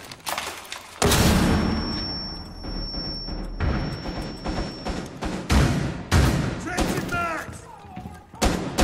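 A flashbang grenade bursts in Rainbow Six Siege with a loud, sharp blast and a lingering high ringing tone, followed by thuds, gunfire-like impacts and other game noises while players talk over it.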